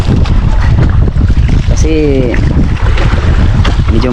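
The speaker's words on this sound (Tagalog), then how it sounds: "may medyo mahangin" Wind buffets a fishing boat at sea, a loud, gusty rumble over the microphone with splashing water, while people talk aboard.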